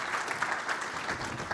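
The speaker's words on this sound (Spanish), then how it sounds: "Les damos un aplauso de nuevo entonces a Daniela y Felipe." Audience applause at a data and marketing event, steady even clapping from a crowd, fairly faint and heard alone.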